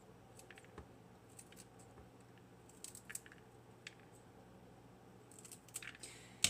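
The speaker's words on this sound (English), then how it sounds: "cut them up with some scissors" Several quick, quiet snips of scissors cutting chive stems, scattered over a soft background hum, with a sharper cut near the end.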